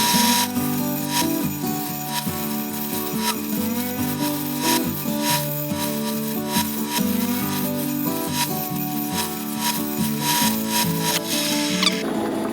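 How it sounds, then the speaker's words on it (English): A 100 grit lapidary wheel grinds a bevel onto a black banded agate cabochon, giving a steady, close, abrasive rubbing whir with repeated scraping pulses. It runs continuously under a tonal, music-like layer. "So I'm going to go back now to the 100 grit and put the bevel on it."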